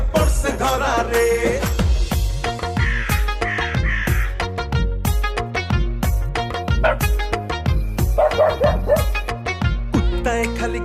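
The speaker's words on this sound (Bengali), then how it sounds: "কুত্তায় খালি ঘেউ ঘেউ করে" Dog barks and crow-like caws sound amid a loud, busy Bangla folk song with steady rhythmic music throughout.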